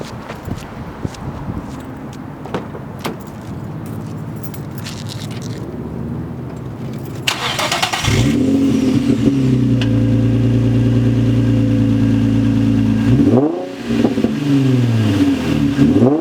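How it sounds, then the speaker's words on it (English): Infiniti G35 with a muffler delete, heard close by: after some shuffling and scraping, the engine fires up with a sharp burst, then settles into a loud, steady idle punctuated by a deep rev that rises and falls near the end. "I didn't want to rev it too loud because there's people around me."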